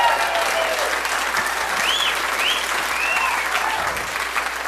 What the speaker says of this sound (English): I don't know if you guys are clapping out of sympathy